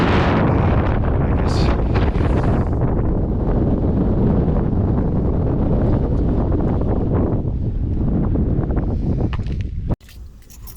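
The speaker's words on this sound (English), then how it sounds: "Man, it's so windy outside" Strong wind roars steadily outdoors near Grindavik, Iceland, buffeting the microphone with a constant heavy rumble for nearly the whole stretch before cutting off.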